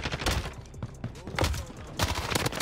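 Shotgun blasts in the video game Warzone land as a few loud, heavy booms spaced through a busy burst of game combat noise.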